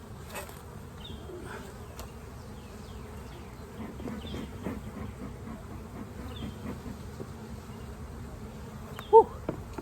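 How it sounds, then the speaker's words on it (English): Honeybees in a full honey super during a hive inspection, a dense low buzzing hum throughout with occasional individual bees droning past close by and a brief sharp knock near the end. "that honey super is full of bees"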